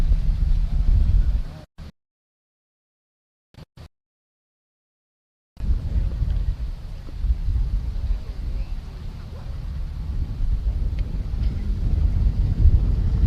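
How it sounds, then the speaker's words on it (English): Strong wind in Key West buffets the microphone in low rumbling gusts, cutting out briefly into near silence, then roaring back steadily and growing slightly stronger. "it's really windy"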